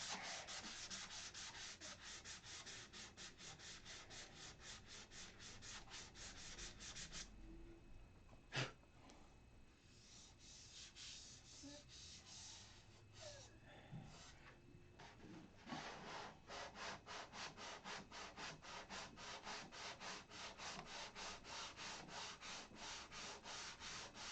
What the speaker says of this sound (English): I'm sanding with 320.